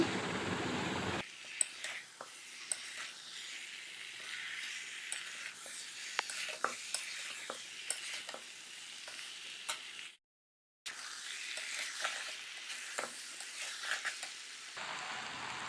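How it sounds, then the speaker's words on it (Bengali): Spiced jackfruit and potatoes sauté in mutton fat, making a continuous soft sizzle broken by repeated scraping and clinking of a spatula against the pan, with a short silent gap partway through. "যত এটা কষাবো তত কিন্তু টেস্টটা বাড়বে তত কিন্তু খেতে ভালো লাগবে তো এইভাবে ভালোভাবে কষিয়ে নিচ্ছি"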